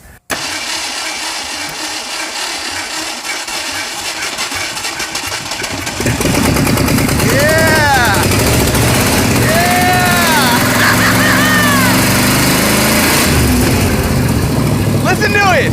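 A 1968 Ford Mustang Mach 1 engine cranks and fires, then settles into a loud, steady idle with a rough, throaty rumble; voices are heard faintly over the running engine.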